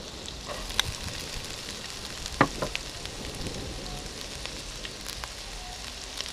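Garlic and onions frying in oil as the base of a green curry sauce, a soft steady sizzle with light crackles and a couple of brief clattering stirs, nearby and moderately quiet with no speech.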